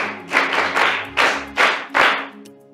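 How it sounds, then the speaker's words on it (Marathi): A group of students claps in a few separate bursts, each swelling and fading, close and moderately loud with short pauses between. "एकदा सगळ्यांनी त्यांच्यासाठी टाळ्या वाजवायच्या"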